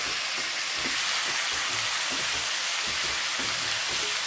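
Chopped onions fry in hot oil in a home kitchen pan, giving a loud, continuous sizzle with faint stirring scrapes throughout.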